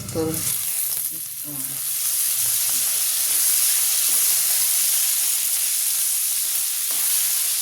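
Food cooks in a lid-covered pan, giving a loud, continuous hissing sizzle with steam that holds evenly after a brief rougher start.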